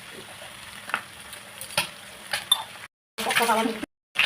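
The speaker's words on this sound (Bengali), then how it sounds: "এখন আমি দিয়ে দেবো আদা রসুন বাটা" Ginger garlic paste goes into a hot pan and sizzles with a soft, steady crackle, with spoon scrapes and metal clinks against the pan and brief cuts of silence.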